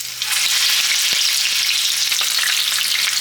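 Plantains for patacones fry in hot canola oil, a loud, close, continuous crackling sizzle with a few scattered pops and stirring knocks, and no voices.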